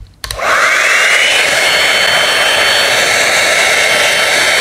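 An Arzum Volume Pro 5063 hot air styling brush switches on after a click and blows steadily, a loud close whooshing whine with a faint high motor tone, with no talking.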